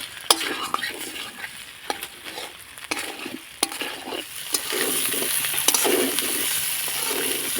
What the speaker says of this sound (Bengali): এবার মশলার সঙ্গে আলুটাকে ভালো করে কষিয়ে নিতে হবে